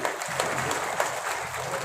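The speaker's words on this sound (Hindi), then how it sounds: "तालियां बजाकर उनका स्वागत करें" Audience applause at a soldier honour ceremony held by the Bulandshahr district soldier welfare board, a dense, even burst of many hands clapping together, fairly loud and close.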